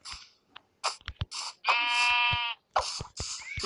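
A sheep in a video game farm gives one long, wavering bleat. Short clicks and thuds come just before and after it, and no one speaks.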